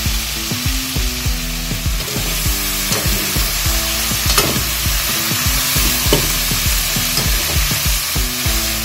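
Chopped green chillies and ladyfinger (okra, bhindi) stir-frying in a pan, a continuous loud sizzle with frequent rhythmic scraping strokes of a spatula against the pan.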